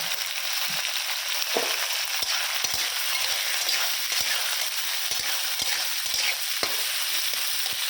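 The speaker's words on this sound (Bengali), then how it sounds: "পেঁয়াজ আর রসুনটা দিয়ে দেবো, কাঁচা লঙ্কা দিয়ে দেবো, ভাজা ভাজা হয়ে যায়।" Constant loud sizzling of onion, garlic and green chillies frying in a pan, with scattered clicks and scrapes of stirring throughout.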